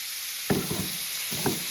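Tomatoes and masala fry in a pan with a steady sizzle. Two brief clinks of a spoon stirring break through it, with no talk.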